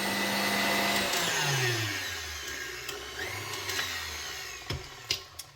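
An electric kitchen mixer whirs through pound cake batter, its motor pitch sliding down as it slows, followed by a few faint clicks and knocks nearby.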